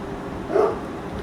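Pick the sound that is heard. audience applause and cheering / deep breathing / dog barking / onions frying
dog barking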